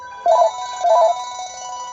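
A Panasonic KX-TGL463 cordless phone rings with two warbling electronic bursts, followed by a steady tone that lingers. It is clear and close, with no one talking.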